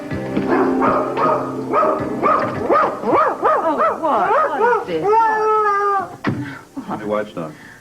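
A puppy whimpers and yips in a rapid run of high, rising and falling cries close by, ending in a few sharp yelps, with voices talking around it.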